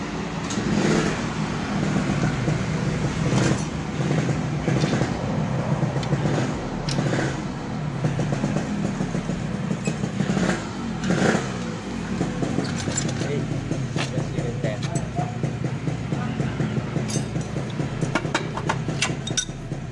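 A Yamaha Lexi automatic scooter idles and runs at low revs, a continuous engine drone with some mechanical rattle and vibration throughout.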